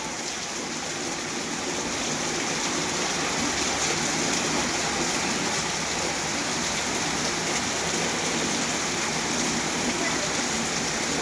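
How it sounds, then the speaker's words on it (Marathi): Steady heavy unseasonal rain pours down continuously in the morning in Dhande village, a dense even hiss of drops across the whole stretch with no pauses. "आज सकाळी 7 वाजल्यापासून पावसाला सुरुवात झालेली आहे. बघा पाऊस."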